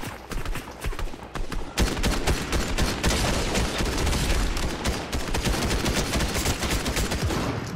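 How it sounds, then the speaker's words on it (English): Rapid, loud bursts of automatic gunfire from Fortnite Zero Build gameplay on an Xbox Series X, dense and continuous volleys with a few single shots, close and sustained. "Oh, getting shot at again."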